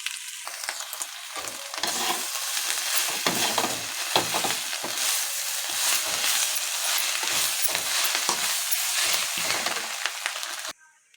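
Ingredients for egg pasta fry in a pan with a loud, crackling sizzle and intermittent stirring scrapes. The sizzle starts abruptly after a brief quieter moment, then runs continuously before cutting off sharply at the end.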